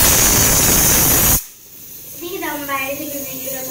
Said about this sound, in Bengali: প্রেসারের জন্য আমি দেখাতেই পাচ্ছি না, সিটি পড়ছে তো।